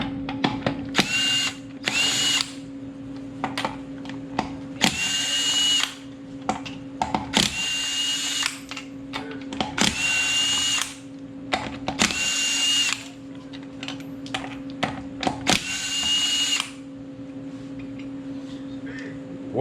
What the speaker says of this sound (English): we're going to go ahead and pull the wheel off